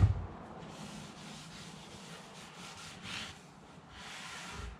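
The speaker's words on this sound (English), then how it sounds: "I'll just wipe off any excess." A clean rag wipes excess wet wood stain off a hardwood stair tread. Soft, faint rubbing swishes repeat in a loose rhythm, heard up close with no voices.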